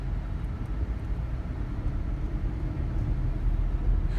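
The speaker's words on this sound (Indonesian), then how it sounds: "Suara yang terdengar di kabin adalah suara AC dan mesinnya" Inside a Mercedes-Benz C200 W203 cabin, a steady low engine rumble blends with a broadband air-conditioning hiss at moderate volume, continuous and even throughout with no talking.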